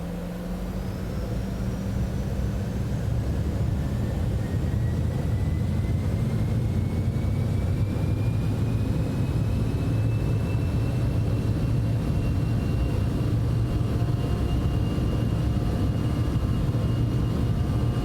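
Jet engines of a Citation X on a takeoff roll in a flight simulator, a steady loud roar with rising whine building continuously as the aircraft accelerates.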